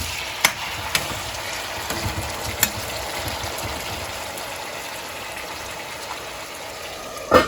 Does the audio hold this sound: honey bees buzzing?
no